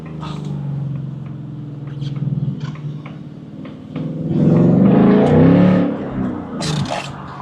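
Ford Mustang GT V8 revving on a downshift, a swelling engine note that builds and peaks mid-clip before settling back to a lower rumble, close and fairly loud with no talk.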